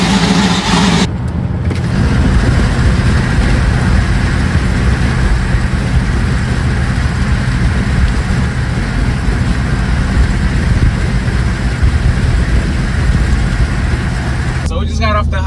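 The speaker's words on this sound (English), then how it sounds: "I want to give it a good rev." A Chevrolet Silverado pickup engine roars with a loud, sustained rev, a dense near drone that holds steady for most of the span.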